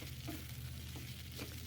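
Radish curry cooks in a covered pan with a couple of spoons of ghee, giving a faint, steady sizzle and bubbling sound with no voices.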